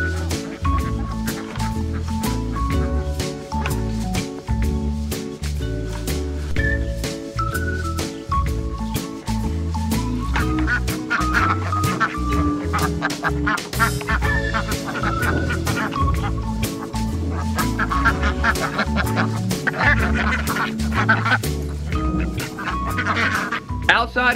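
A flock of farm ducks quacks and honks loudly and continuously at close range while being fed freshly harvested grass, with people talking among the calls.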